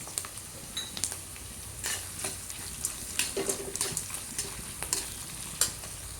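Onions frying for kanda poha in a pan, stirred with a utensil: steady close sizzle under repeated scraping and clinking of metal against the pan, no talking.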